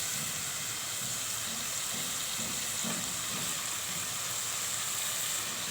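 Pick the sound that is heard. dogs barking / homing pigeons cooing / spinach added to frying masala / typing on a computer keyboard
spinach added to frying masala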